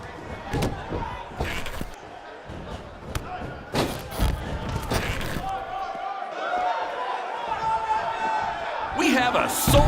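Arena crowd din from the WWE 2K19 wrestling video game hums steadily under a commentator's voice, broken by heavy slams and thuds from the ring, swelling louder near the end.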